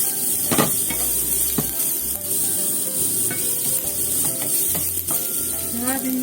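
Freshly chopped ginger sizzles in a frying pan for a ginger shiso miso, a steady close hiss broken by repeated scraping and clacking stirring strokes.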